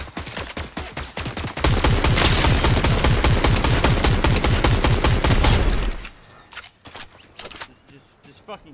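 Rapid bursts of gunfire crackle loudly through a video game firefight, dense automatic fire for several seconds before dropping off to scattered sounds, with no speech during the shots.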